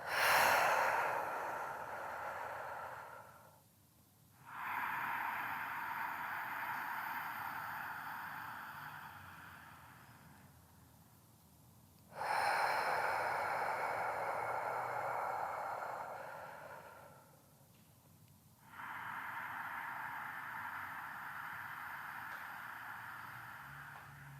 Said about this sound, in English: So breathe. Exhale through the mouth.